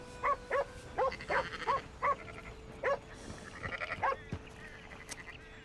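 Sheep bleating in Red Dead Redemption 2: a flock gives repeated short, nasal bleats in quick succession, fairly close, over steady outdoor ambience with a few soft thuds.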